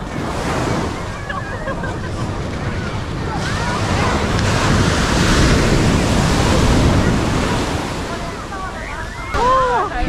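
Ocean waves roll in at a beach in Shenzhen, China, a loud continuous surf wash mixed with gusty wind buffeting the microphone, with faint voices of beachgoers and a nearby voice under the noise.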